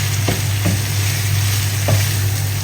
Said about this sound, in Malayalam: സോസേജ് ഇട്ട് കഴിഞ്ഞിട്ട് ഈ മസാലയൊക്കെ നന്നായിട്ട് ഇതിൽ കോട്ട് ചെയ്യാൻ പാകത്ത് നമുക്ക് ഇളക്കാം